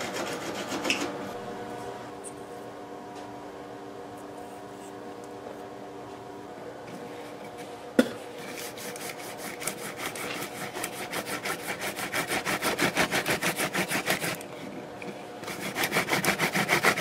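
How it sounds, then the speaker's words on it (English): A primitive hand drill bores into soft red cedar, giving a dry, rhythmic rasping and rubbing that starts faint and turns into steady, quick back-and-forth strokes close by. "Red cedar, so it's really soft, but you can see how efficient the drill is."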